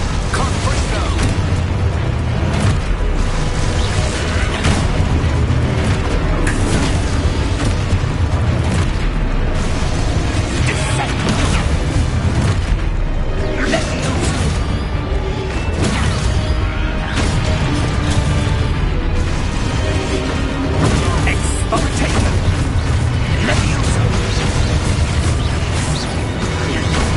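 Confringo fire-blast spells from the video game Hogwarts Legacy boom and burst repeatedly through a dense, loud combat mix, with booming impacts and crashes layered over constant game noise and music.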